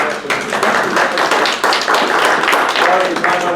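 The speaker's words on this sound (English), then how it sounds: "Let's have a round of applause for that." A city council meeting crowd gives a loud round of applause, dense overlapping claps filling the room while voices talk over them.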